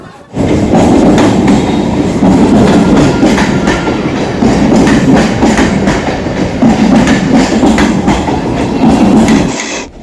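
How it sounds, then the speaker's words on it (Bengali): A train pulls into a station with a loud, continuous rumble and a steady clatter of wheels over the rails, close and filling the whole stretch. "দেখো ওইদিকে ট্রেন ঢুকে গেছে"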